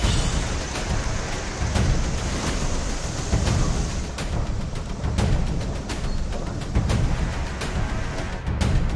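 Heavy rain pours down amid flooding in Bihar, India, a dense, continuous broadband roar with uneven surges and occasional sharper splashes, with no speech heard.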